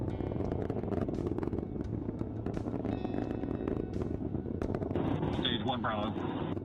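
A Falcon 9 rocket climbing through supersonic flight on the Crew-9 launch makes a steady, loud, crackling roar throughout, with radio callouts heard over it.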